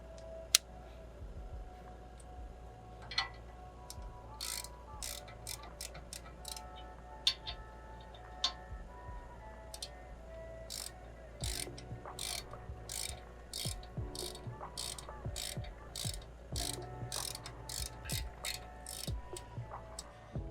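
A hand ratchet tightening a brake part during a brake install on a 2011 Toyota Tacoma: scattered ticks at first, then a faster run of sharp, close clicking pawl strokes, all fairly quiet.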